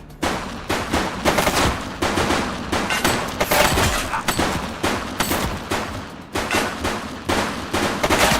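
A shooting suspect firing at police in The Precinct game, rapid loud bursts of gunfire repeating steadily across the whole stretch, up close and with no talk.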